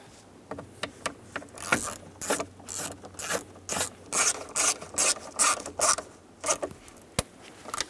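T25 screws are driven into the plastic steering column cover of a 1988–1999 GMC K1500 pickup: close, brisk ratcheting clicks come in repeated short bursts separated by brief pauses.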